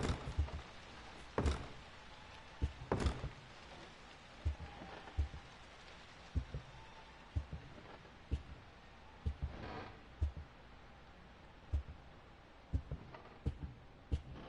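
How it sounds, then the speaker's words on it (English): Knocking on a door in the horror video game Silent Hills (P.T. demo): scattered heavy thuds and knocks at irregular intervals over a faint rainy ambience, no speech. "We heard the door knocking."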